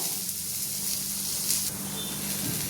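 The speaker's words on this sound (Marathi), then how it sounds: "आधी आपण कांदा भाजायला टाकायचा। कांदा भाजू थोड़ा 5 मिनिटं याला लाल होऊ द्यायचं" Chopped onion frying in oil in a pan for shev rassa, a steady soft sizzle and hiss running unbroken throughout at a moderate level, with no voices.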